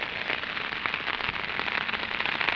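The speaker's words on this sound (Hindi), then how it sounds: "चल बारिश आ गई" Steady rain pours onto a house rooftop in Dehradun, Uttarakhand, a dense, even hiss of drops with scattered sharper taps, close and continuous throughout with no voices.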